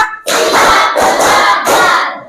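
Children in a classroom clap together in short counted bursts, three or four loud group claps separated by brief pauses, close and crisp.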